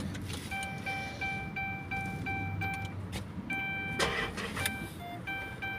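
A 2017 Dodge Charger with a misfire struggles on the starter, the engine cranking laboriously in repeated bursts before catching hard, with a steady electronic chime ringing over the close mechanical noise.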